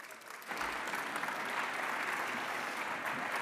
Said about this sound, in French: sous vos applaudissements, Laurence Gaborio.